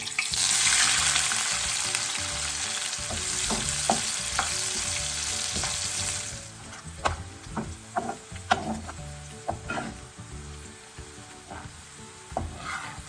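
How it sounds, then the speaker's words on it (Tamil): Chopped onions frying in a pan, a loud steady sizzle that quiets after about six seconds into softer frying with repeated scrapes and knocks of a spoon stirring, no voices. "இப்போ நாங்கள் இதுக்குள்ளே வெட்டி இருக்கிற இந்த வெங்காயத்தை சே பொறிச்சு எடுத்துக்கொள்வோம்"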